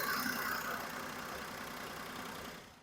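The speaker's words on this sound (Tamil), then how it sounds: "இன்ஜின் சவுண்டு, பெர்ஃபார்மன்ஸ் எல்லாமே ஸ்மூத்தாக இருக்குங்க." A Maruti A-Star automatic car engine idles quietly and smoothly, a low steady hum that fades slightly toward the end.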